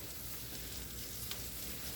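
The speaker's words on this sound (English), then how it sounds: "You can hear the sizzling." Asparagus sizzles steadily in olive oil in a hot pan, a close, dense crackling fry that goes on without a break and with no voices.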